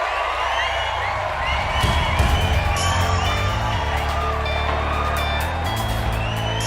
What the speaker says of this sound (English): you will see we have some crowd noise at the beginning.